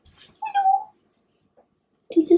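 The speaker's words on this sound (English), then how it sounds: "This is my cat." A house cat, seventeen years old, gives one clear, drawn-out meow close by, then falls quiet before a second, lower meow-like call at the end; no speech.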